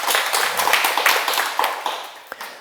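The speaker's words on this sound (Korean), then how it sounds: "감사하다고 큰 박수 한번" An audience at a Sunday lecture gives a round of dense applause that gradually tapers off, with a few louder individual claps near the end.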